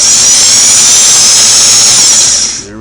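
A vintage Singer sewing machine runs loud and close on a newly fitted internal motor belt, giving a steady high whirring hum that winds down abruptly at the end.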